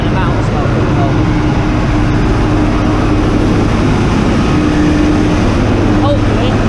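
An old engine runs steadily with its throttle wedged open while giving off smoke, a constant loud rumble with a low droning hum that stays even throughout.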